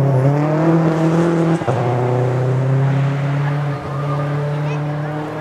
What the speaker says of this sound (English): You can hear by the turbo chirp.